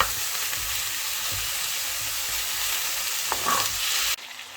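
Steady crackling sizzle of meat sautéing in hot oil, continuous and fairly close, with a brief clink near the end before it cuts off.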